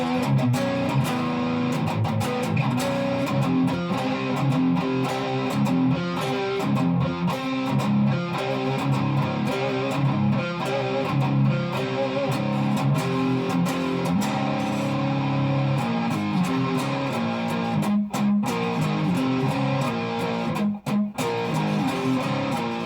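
A Squier Sonic Mustang electric guitar played on its bridge pickup gives a dense, continuous strummed and picked passage, loud and slightly gritty, with no talking.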